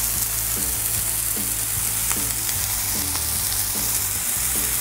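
Smash burgers sizzle on a Blackstone flat-top griddle, a loud, continuous close-up hiss with scattered pops and soft scraping knocks, and a low hum underneath.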